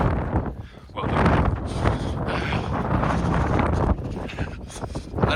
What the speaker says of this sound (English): I don't know how windy it is